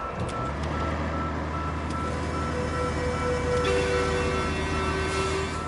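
A truck in the video game Roadcraft on PS5 gives steady, repeated reversing beeps over a constant engine drone and rumble. The sound is loud and continuous, with no voices.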